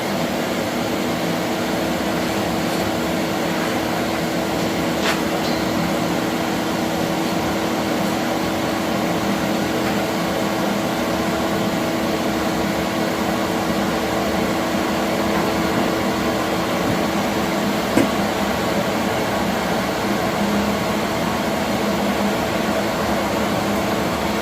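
A loud forge roars steadily while heating steel for hardening a knife, a constant dense blowing hum with a few faint clicks and no talking.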